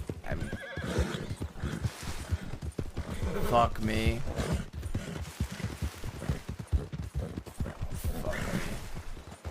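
Hooves pound at a fast gallop in a Wild West role-play game while a horse whinnies loudly near the middle, and a voice talks over the running sound.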